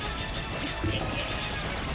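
In Rockman X4, the Twin Slasher weapon strikes the spider boss with a loud, crunchy crash-like impact that stands out over dense game sound.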